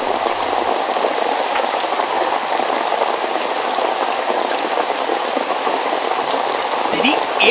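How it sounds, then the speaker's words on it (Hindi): Steady rain falls hard, a continuous dense patter and hiss with no pauses. "रेडियो बोला कि बारिश तो हो गई है"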